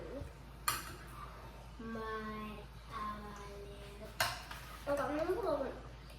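Spoon stirring homemade macaroni salad in a bowl, with soft scraping and clinks of utensil against the dish, mixed under a child's and an adult's voices talking nearby.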